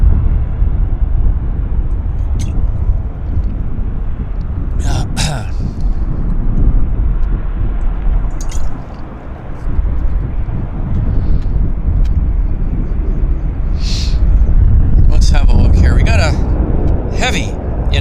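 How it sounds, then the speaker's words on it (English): Air Canada heavy airliner inbound from Osaka, Japan, approaching Vancouver International Airport, a steady loud roar mixed with gusty wind buffeting the microphone for the whole stretch, with people talking over it. "Heavy inbound. It's Air Canada Flight 24 from Osaka."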